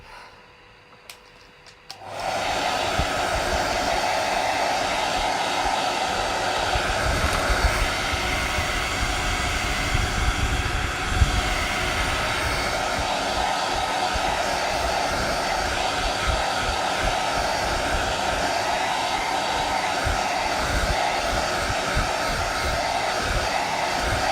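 A hair dryer switches on after about two seconds and blows a steady, loud, close roar over a drawing until the end, with no talking.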